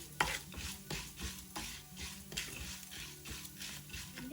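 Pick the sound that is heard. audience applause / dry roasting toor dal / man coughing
dry roasting toor dal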